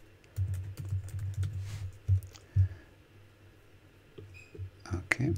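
Keystrokes on a computer keyboard as a password is entered, a quick run of soft clicks followed by a few heavier taps and a final flurry of keys.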